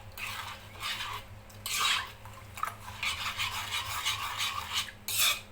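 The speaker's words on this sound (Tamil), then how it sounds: "நல்லா மிக்ஸ் பண்ணுங்கள்" A spoon stirs dissolved dark jaggery water in a bowl, giving repeated close scraping and swishing strokes in an uneven rhythm with brief louder bursts.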